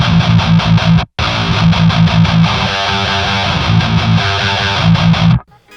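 An electric guitar played through a Kemper amp with a green screen boost set to no drive and no volume, only as a tone boost. It gives loud, gritty, palm-muted riffing with a brief cut near the start and a sudden stop at the end.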